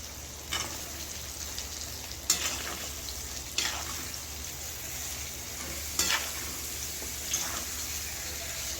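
An onion and potato mix frying in a pan, a soft continuous sizzle broken by a few sharp stirring scrapes spaced a second or two apart, with no voices.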